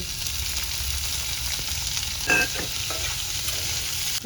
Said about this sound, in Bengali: নুন দিয়ে সিদ্ধ করে রেখেছিলাম গেঁড়িগুলো দিয়ে দিচ্ছি